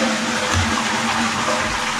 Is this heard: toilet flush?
yes